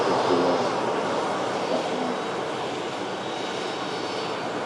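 A Jet2 Boeing 737 airliner arriving at Manchester Airport gives a loud, steady, broad jet roar that holds for several seconds and eases off slightly toward the end, with no talk over it.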